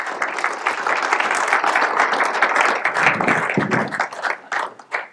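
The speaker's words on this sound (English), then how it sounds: "I'm always impressed when people clap before I do anything" An audience claps as a presenter is welcomed on stage, dense applause that thins into scattered individual claps near the end.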